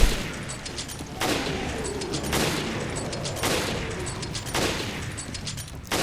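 Repeated gunfire from Resident Evil Revelations Raid Mode as enemies are shot, with about four loud bursts at roughly one-second intervals, each a broad crack with a lingering rumble, over continuous low game ambience.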